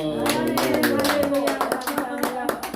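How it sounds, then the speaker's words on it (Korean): A church congregation claps in applause, dense and continuous, with a preacher's voice speaking over the clapping throughout. "감사의 박수."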